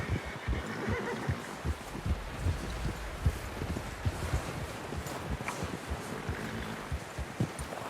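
A horse in the video game Red Dead Redemption 2 plods along with steady, close clip-clop hoofbeats, a dense rhythmic patter of thuds running throughout at a moderate level.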